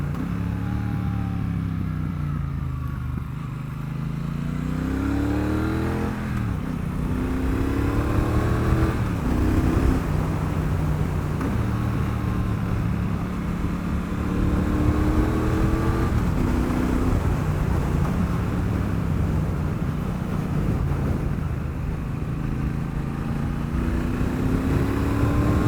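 A Triumph Bonneville Bobber 1200 motorcycle rides by on a road, its engine rising and falling through several gear changes with repeated climbing revs, fairly close and steady over moderate wind noise.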